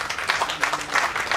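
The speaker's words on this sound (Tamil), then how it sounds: "அந்த டைரக்டர் ஒரு கைத்தட்டு கொடுக்கலாம்." An audience at a film trailer and audio launch event claps for the director, a brief burst of dense, even applause from a crowd in a hall.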